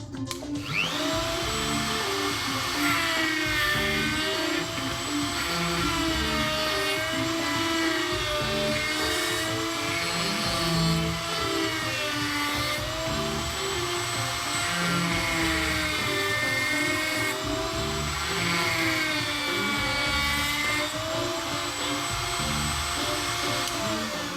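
A KOPAL RM500 electric chamfering machine, an electric motor driving a flexible 1.20 m shaft with a cutter, runs continuously with a steady high whine and slowly wavering pitch, loud and alone throughout.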